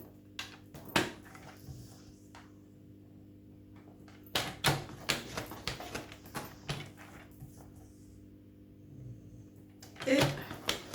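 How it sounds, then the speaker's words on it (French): Paper being creased into folds 2 cm from the edge on each side of a square for a scrapbooking dispenser box, giving soft scattered crinkles and sharp pressing clicks up close in a quiet room. "Et là, on fait des plis à 2 cm."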